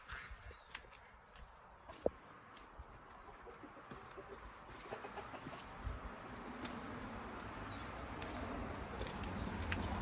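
Chickens cluck faintly at a distance, with scattered soft clucks and one sharp tap over a steady background hiss that slowly grows louder.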